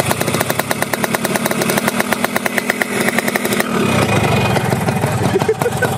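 A Yamaha RX King motorcycle from 2008, red, with a modified exhaust, idles with a rapid rattling two-stroke pulse, then the throttle opens into a louder, rougher rev, close and loud throughout.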